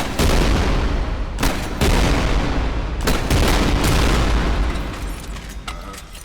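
Huge explosions from a weapon in the video game Trepang2, three loud booming blasts in quick succession, each with a long rumbling tail.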